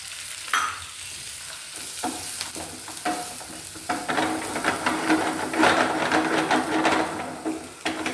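Prawns coated in masala fry in coconut oil while being stirred, giving a steady close sizzle broken by repeated scraping and tapping strokes of the spoon against the pan.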